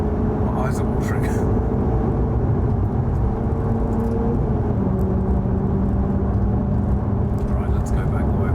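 Car engine droning steadily at close range from inside the cabin while driving, a continuous low hum with some rising pitch under loud speech.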